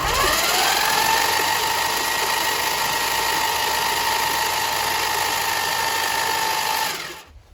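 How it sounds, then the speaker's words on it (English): A '71 Dodge Charger Super Bee engine with factory hydraulic lifters spins over steadily on the starter, jumped at the relay with a screwdriver, a loud continuous whirring crank that runs unbroken for about seven seconds and then stops abruptly. "let's spin the engine around a little bit more right here and get some more oil pressure built up"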